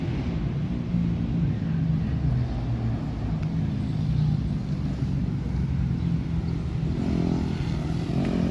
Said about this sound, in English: Guys doing wheelies on their dirt bikes